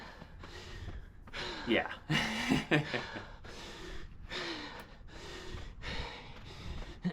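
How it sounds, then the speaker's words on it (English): A man breathes hard and heavily after running up a 300-foot hill, with rhythmic gasping inhales and snorting exhales, close to the microphone, and he mutters a word between breaths. "Let you get some of these nice unfiltered man breathing hard sounds."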